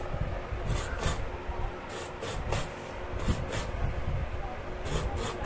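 Fresh coconut grated by hand against a metal grater blade, a steady run of rough scraping strokes repeating in bursts at close range, with a faint background voice now and then during preparation of coconut burfi.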